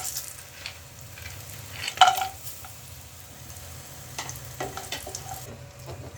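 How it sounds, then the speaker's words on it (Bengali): Lentil badi frying in oil left over from frying fish, a close continuous crackling sizzle with a sharp clank of a utensil partway through and light stirring scrapes, no talking. "এবার ওই তেলেই বড়িগুলো ভেজে নেব"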